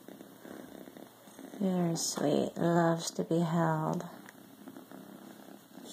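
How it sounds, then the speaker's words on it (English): A 3.5-month-old medium-haired dilute tortie-and-white kitten purrs steadily and softly throughout while a person talks over it. "She's purring away."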